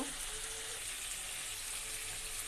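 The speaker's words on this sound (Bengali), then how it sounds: "এটা আমি সুন্দর করে কষিয়ে নেব" A spice paste sautéing in oil makes a steady, even hiss that holds at a constant moderate level throughout, with no stirring strokes standing out.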